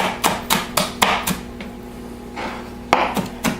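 A knife chops and minces onion on a cutting board, giving a run of sharp, close thuds in an uneven rhythm with a short pause in the middle. No one speaks.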